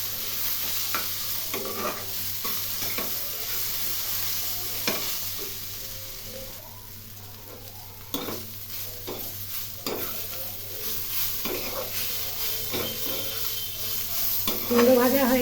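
Ash gourd frying in a pan with a little sugar added, a steady close sizzle broken by repeated scraping stirs of the spatula, ending in a louder burst of frying.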